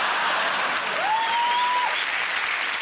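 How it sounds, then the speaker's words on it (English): A studio audience at a comedy news show applauds steadily, with a continuous wash of clapping and a faint whistle rising above it. "Don't applaud."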